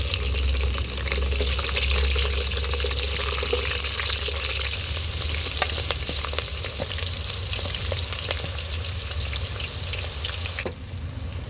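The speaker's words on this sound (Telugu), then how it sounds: "ఉల్లిగడ్డలు మంచిగా గోధుమ రంగు వచ్చేదాకా వేయించుకోవాలండి" Onions frying in oil in a pot until browned, for a small-fish curry, giving a steady, close, bubbling sizzle with occasional faint clicks throughout.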